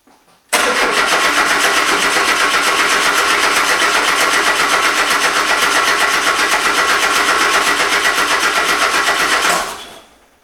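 A Subaru engine swapped into a VW Super Beetle fires up for the first time after a fueling change. It catches abruptly and runs loud and rough for about nine seconds, then cuts off.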